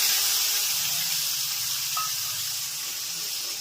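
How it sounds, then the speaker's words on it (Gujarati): Tomatoes hit a hot mustard-seed and cumin tempering in a pan, giving a steady, close sizzle with a faint hiss that slowly eases over a few seconds. "હવે વઘાર ટમેટા નાખી દેવાના."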